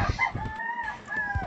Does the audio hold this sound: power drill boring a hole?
no